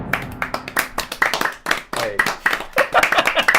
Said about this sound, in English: I'm going to allow a standing ovation for the 4 people in the massive empty echoing hall